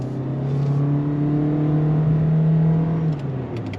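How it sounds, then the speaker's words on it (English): A 2026 Toyota Corolla Cross S hybrid AWD SUV accelerates under throttle, its engine a steady, rising hum heard from inside the cabin, holding strong for about three seconds before easing off. "On throttle, here we go."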